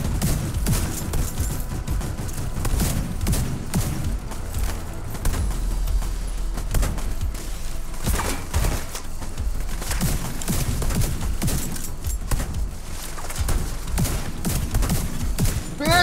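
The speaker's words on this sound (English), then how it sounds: "Oh, dude, I'm shooting the wrong dude." Dense, continuous gunfire from a video game shootout, rapid bursts and volleys layered over one another with booming impacts throughout, loud and sustained with no pauses.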